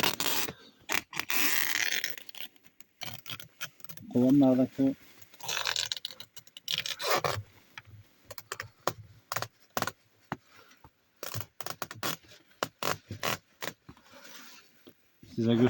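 Adhesive tape being torn and stuck onto beehives in bursts of crackly ripping and scraping, heard up close between and under someone talking.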